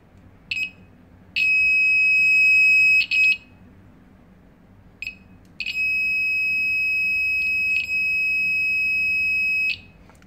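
A small 5V electromagnetic active buzzer running off a single-cell battery gives a steady, piercing high tone in several bursts, two long ones lasting about two seconds and four seconds, with short chirps between, heard up close.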